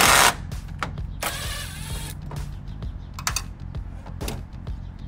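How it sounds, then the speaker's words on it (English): Screws are backed out of a plastic grille cover insert on a 2021 Toyota Tundra, giving short clicks, scrapes and soft ratcheting taps at close range with brief pauses between them. "first thing we'll do is to remove all the screws"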